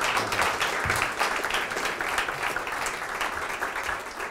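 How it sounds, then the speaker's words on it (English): A lecture audience at a business talk on financial literacy breaks into steady applause, dense overlapping clapping held at an even level from start to end with no voices standing out. "Round of applause."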